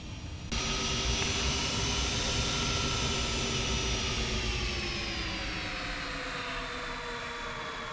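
Boeing 767 jet engines in the X-Plane 11 simulator while taxiing, a steady loud whining roar with high tonal whine that holds constant and slowly drifts down in pitch, with no talking.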